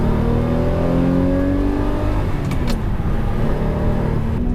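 The Lamborghini Murcielago's V12 drones loudly and steadily under load, its layered tones gliding slowly downward, with a pair of sharp clicks partway through.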